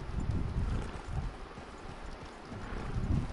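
A horse gallops in Red Dead Redemption 2, rapid muffled hoofbeats thudding in a steady rhythm close by, with a soft rushing noise underneath.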